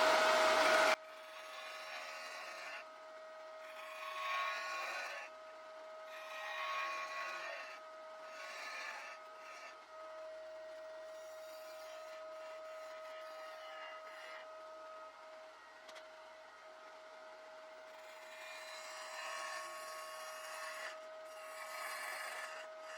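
A wood lathe spins steadily with a tonal whine while a makeshift gouge in place of a spindle gouge rasps and scrapes against a wooden coffee mug blank in swelling passes, close and alone.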